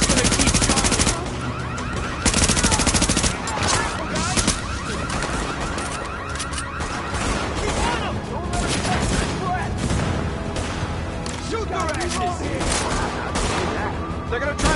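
Sustained automatic gunfire and bursts of shots in The Division video game, a dense, loud barrage running throughout with overlapping booms and voices shouting commands beneath the shooting.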